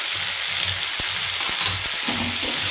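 Three small tomatoes with a spoon of salt fry loudly in hot oil for a Bengali tilapia fish jhal, a dense continuous sizzle with a few soft knocks underneath.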